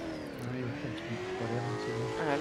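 A racing car's engine revs and shifts pitch while tires squeal, drifting on the Knutstorp race track; steady and fairly close, without talking.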